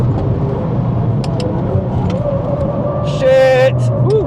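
A car on the Nürburgring Nordschleife rumbles along under excited talk, its engine note rising as it pulls away up a steep climb after hard braking with ABS intervening.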